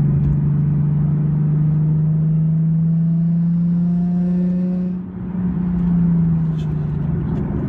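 A 2010 Nissan 370Z's engine drones steadily as it merges onto a highway, a loud, close cabin hum with rising tonal whine and road rumble, briefly dipping near the end before picking back up.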